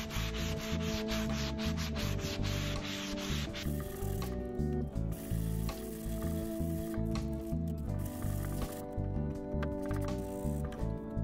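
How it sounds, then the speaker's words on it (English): A sanding sponge rubs back and forth over the edges of wooden drawers from a seventies-style chest, trimming excess paper in quick, rhythmic scratchy strokes, close and steady, with brief pauses between passes. "I'm going to go over them with a sanding sponge just to trim off the excess paper"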